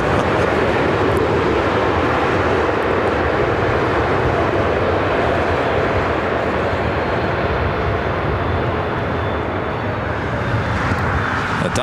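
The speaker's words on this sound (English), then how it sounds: "A Delta A330 Neo heading to Paris, heading to the south side." Delta Airbus A330neo airliner at LAX on its way to Paris, a loud broadband jet roar that stays constant for about twelve seconds, with no speech over it.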